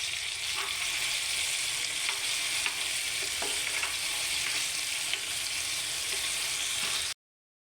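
Potatoes sizzle steadily in a hot pan while a utensil stirs them, with soft scraping strokes over a constant frying hiss that holds for about seven seconds before cutting off.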